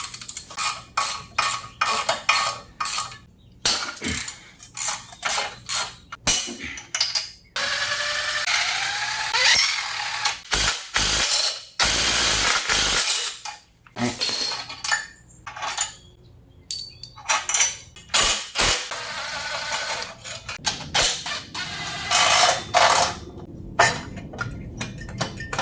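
A wrench ratchets and clicks while tightly torqued factory bolts come off a 420cc go-kart engine in an X pattern, with bursts of metallic clattering, parts set down with a clink, and short pauses between bolts, close and fairly loud.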